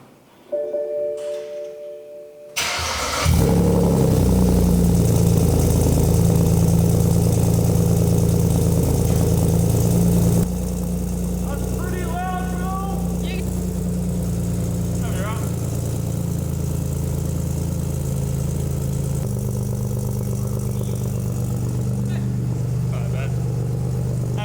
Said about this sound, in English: The cold start's pretty loud. But it sounds good now.